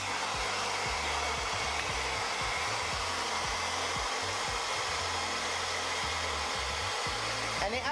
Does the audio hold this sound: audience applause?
no